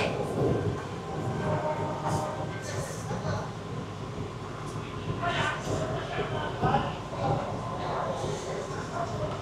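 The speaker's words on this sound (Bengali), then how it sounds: "ট্রেন আমাদের ঢুকছে দমদম জংশন স্টেশন" An AC local train on the Sealdah–Bangaon line rolls into Dum Dum Junction station with a steady rumble and rattle of carriages, continuous and fairly close, while people talk throughout.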